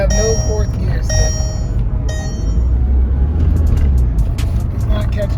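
A 2005 VW Beetle TDI diesel with a missing fourth gear and freshly repaired third gear and suspension drives on a test ride, a steady low engine and road rumble filling the cabin with no talk.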